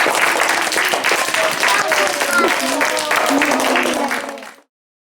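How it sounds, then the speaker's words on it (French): An audience applauds after a Playmobil Easter show, with dense, steady clapping and a few voices calling out over it. The applause holds for about four and a half seconds, then stops abruptly. "Est-ce qu'on applaudit le spectacle?"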